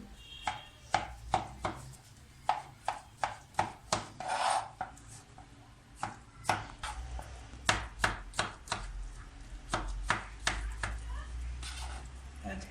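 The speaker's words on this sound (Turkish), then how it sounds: "Ben küp küp doğruyorum." Steady, rhythmic knife chops cutting beetroot into cubes on a cutting board, sharp close taps roughly every half second with brief pauses, over a faint low background hum.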